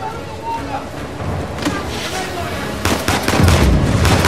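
Gunfire in the game Uncharted 4 arrives as scattered shots that thicken into louder bursts near the end, with vehicle-like rumble beneath and a player talking over it.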